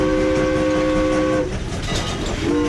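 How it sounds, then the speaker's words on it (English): Strasburg Rail Road steam locomotive whistle sounding a loud, sustained multi-tone chord for about a second and a half, then cutting off into rumbling train and wheel noise before a brief second blast begins. "There's the whistle a-calling."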